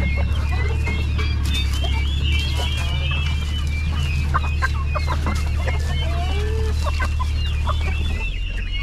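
A flock of farm chickens clucks busily in a rural yard, with a rooster among them, the calls near and overlapping above a constant low hum.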